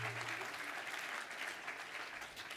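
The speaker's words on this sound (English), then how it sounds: "Warm round of applause, please." An audience applauds at the close of a panel debate, a steady, even wash of many hands clapping, quiet and somewhat distant, with a brief voice at the start.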